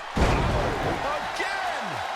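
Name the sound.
hurricanrana wrestling move slam in a video game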